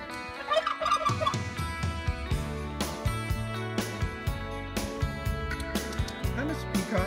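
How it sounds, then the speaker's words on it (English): Turkeys gobble in a livestock barn that smells of hay, their bursts of calls overlapping and repeating loudly at close range, with a few harmonic squawks mixed in. "Turkeys."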